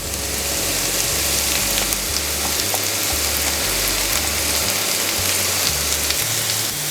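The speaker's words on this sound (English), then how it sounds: "we're gonna use a little tallow to saute these mushrooms. In go the mushrooms." Mushrooms sauté in tallow in a pan, a loud, dense frying crackle that holds steady throughout, with a low rhythmic thumping rumble underneath.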